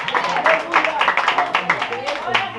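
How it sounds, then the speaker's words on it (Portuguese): A Pentecostal church congregation in Sorocaba claps and applauds for Jesus, a dense, steady patter of many hands filling the room, loud and continuous with raised voices mixed in. "Dá uma salva de palmas bem além para Jesus"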